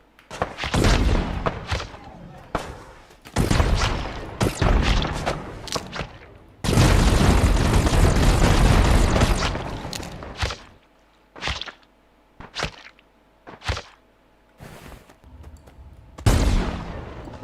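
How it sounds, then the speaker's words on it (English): A sniper rifle firing explosive rounds in a pixel-simulation video game: several loud booming blasts and bursts, including a sustained roaring explosion lasting a few seconds, followed by scattered smaller crackling impacts. "So we're going to snipe, and then when it hits, it'll explode."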